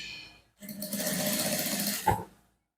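A sewing machine runs a single close burst of stitching, about one and a half seconds long, along a men's trouser zip starting from the crotch point, with a brief clunk at the end and no talking.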